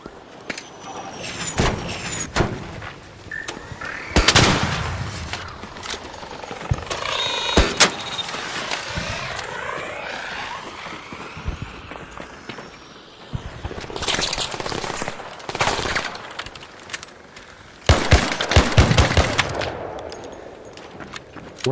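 Sniper fire and other gunshots in the shooter game ARC Raiders ring out as sharp, loud cracks scattered irregularly over a rumbling game soundscape with whooshes and mechanical noise, no voices.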